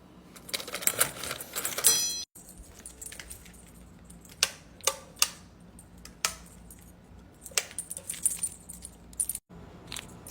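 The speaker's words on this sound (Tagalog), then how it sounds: "Kunin lang natin yung susi." Car keys for a Toyota GR Yaris jangle as they are picked up, a burst of bright metallic clinks followed by scattered lighter rattles and taps, close and loud with no talking.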